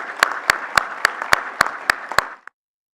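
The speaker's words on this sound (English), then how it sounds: "A nice big round of applause for their efforts" Clapping at a grain awards ceremony: eight crisp, evenly spaced claps in a steady rhythm, close and fairly loud, then a softer final clap and abrupt silence.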